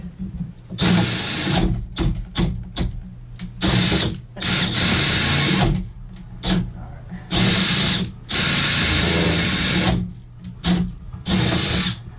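A power drill whirs in repeated bursts during copper plumbing repiping, some long and some short, stopping and starting loudly and close by.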